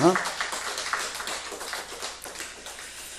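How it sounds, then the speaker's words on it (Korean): A church congregation claps together in a brief burst of rhythmic hand claps that fades quickly, with voices murmuring underneath. "우리 박수로 축복하겠습니다"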